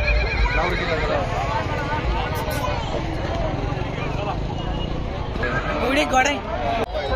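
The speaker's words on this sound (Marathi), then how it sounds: "घोडे पाहायला आलेलो आहे, खूपच असे मोठमोठे घोडे तुम्हाला दाखवतो" Horses neigh and whinny at the Devgad fair (yatra) in Sangamner, with hooves clopping nearby, all set against a steady crowd hubbub and people talking close by.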